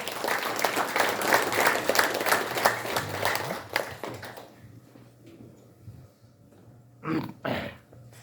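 An audience applauds to welcome a guest speaker at a commemoration event in Gwangju, with dense, loud clapping that fades out after a few seconds, leaving quiet room noise, a few stray claps and brief voices.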